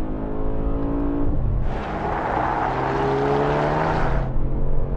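Two cars accelerating hard side by side in a rolling race from 50 mph, a Mercedes-AMG E63 S automatic against a manual Ford Focus RS in third gear, engines roaring close by as one revs higher through a gear change.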